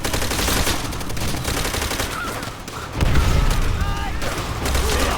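Dense machine gun fire in the video game Call of Duty: World at War, loud and continuous, with overlapping bursts and booms filling the scene while voices shout beneath the shooting.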